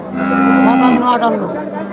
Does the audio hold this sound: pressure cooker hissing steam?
no